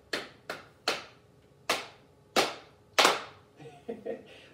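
Six sharp, separate hand claps in a Sunday school group, each with a short ringing decay and spaced irregularly, followed by a few softer knocks and shuffles.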